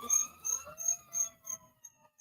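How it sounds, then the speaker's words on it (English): A distant siren wails in rapid repeating pulses, about six quick cycles fading toward the end, heard alone. "See that? Hear the sirens?"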